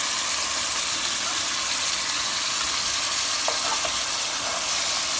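Onion and tomato fry in a pan for a curry, a dense, even sizzle and hiss held at steady loudness throughout, close up, with a faint clink partway and no talking.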